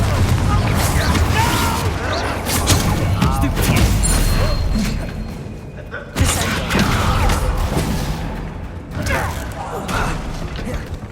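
Blasting spell Confringo cast in the video game Hogwarts Legacy, heavy booming impacts and crackling bursts over a dense battle din, with a sharp strike about midway, as voices speak.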